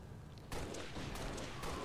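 Gunfire in the strategy game XCOM 2 erupts from a quieter backdrop into a dense, rumbling volley of shots and booms that stays loud for well over a second.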